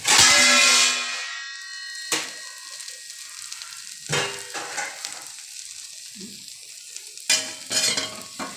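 Carrot dosa batter cooking on a hot pan, giving a loud sizzle at the start that quickly fades, followed by several short bursts of scraping and stirring against the pan with quiet frying in between.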